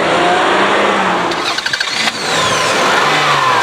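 A 2001 Toyota Highlander V6 with variable valve timing runs loud and close, a steady engine roar broken midway by a quick burst of clicks and pulses before the drone resumes.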